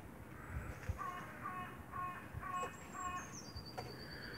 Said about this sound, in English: there are so many magpies, crows, and jays around